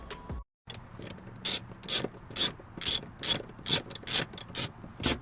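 Ratchet cranking bolts on a BMW M4 seat bracket, a close series of rapid clicking bursts in a steady rhythm after a brief opening pause.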